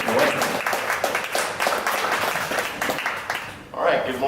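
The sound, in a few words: audience applause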